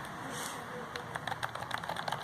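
Faint, quick key taps on a tablet's detachable keyboard, an Ambrane A3-770 calling tablet, starting sparse and becoming a steady patter of light clicks in the latter half over a quiet background hiss.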